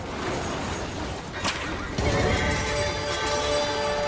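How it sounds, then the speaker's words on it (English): Horse neighing amid the chaotic rush of a chariot race in the Ben Hur video game, a sharp whinny rising over a rumbling wash of hooves and crashing noise. "I like how there was that one random horse running in front of you"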